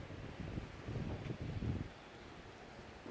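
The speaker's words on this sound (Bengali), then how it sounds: "এক পরিমাণ ঝড় ছুটছে" A strong Kalbaisakhi storm wind in Khulna roars in uneven gusts, buffeting the microphone with a deep rumbling rush before easing to a steadier hiss.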